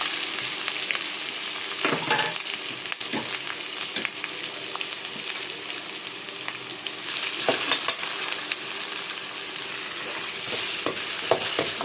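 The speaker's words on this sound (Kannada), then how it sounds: "ನಂತರ ಕಟ್ ಮಾಡ್ಕೊಂಡಿರೋ ಈರುಳ್ಳಿ ಹಾಕೋಣ. ಈರುಳ್ಳಿ ಮತ್ತು ಆಲೂಗಡ್ಡೆ ಎರಡು ಹಾಕೋಣ" Chopped onion and potato frying in a pan for a chicken heart and liver sambar, a constant bright sizzle with occasional scrapes and taps of stirring, no voices.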